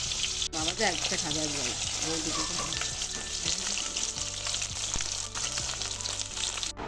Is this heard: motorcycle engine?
no